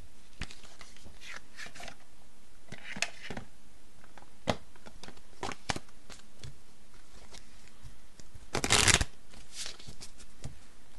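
Oracle cards are shuffled for a card reading, giving close, crisp riffles and shuffles in irregular bursts with one louder flurry near the end, over a faint steady background and no speech.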